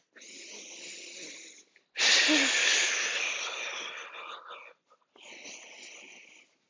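Forceful yoga breathing with close, hissing breaths in a strong rhythm. A soft inhale leads into a long, loud, pushed exhale, then a brief gap and another breath.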